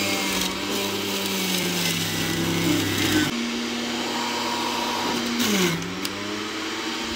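A fruit juicer grinds through pineapple and ginger with a steady electric motor whine that shifts and dips in pitch as the fruit loads the blades, running continuously and close.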